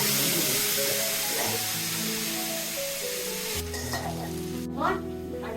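Garlic frying in a little oil in a pan, a sharp hiss and sizzle with stirring and scraping, the sizzle flaring briefly near the end.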